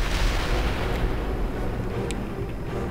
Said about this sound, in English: Say goodbye to your artillery